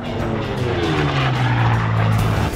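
A racing airplane engine at the Reno Air Races, a loud close roar with a strong low tone that drops steadily in pitch as it passes.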